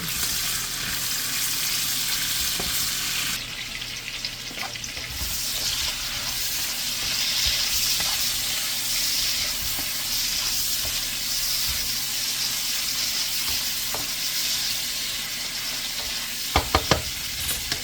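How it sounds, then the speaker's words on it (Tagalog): Shrimp frying in a pan for pancit canton, a steady close sizzle and hiss that runs throughout, with a few clinks near the end. "At ilagay natin ang ating hipon para maluto bago yung ibang sahog."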